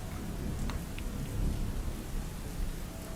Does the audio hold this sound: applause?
no